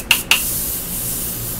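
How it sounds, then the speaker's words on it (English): Two quick pumps of a spray bottle, close and hissing, followed by a steady airy mist that lingers. "I am going to be setting it with the Morphe setting spray"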